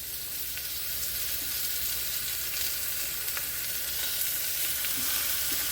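Hamburger steaks sizzle in a pan over medium to medium-low heat, a dense, even hiss of frying that runs steadily throughout with no talking.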